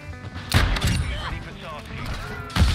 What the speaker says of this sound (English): I love these dual shotgun things, whatever they're called